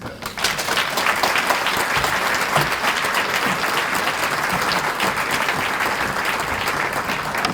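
Sustained applause from a sizable crowd, dense clapping holding steady throughout with no voices standing out.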